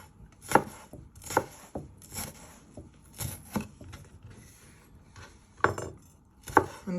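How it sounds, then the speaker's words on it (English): Food is sliced with a knife into little pieces, giving a string of sharp, close chopping taps on a board at an irregular rhythm, moderately loud, with no voices. "And you just want to slice it into little pieces."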